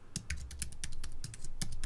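Rapid, irregular clicking of computer keyboard keys while coding in JavaScript, close and steady with no voices.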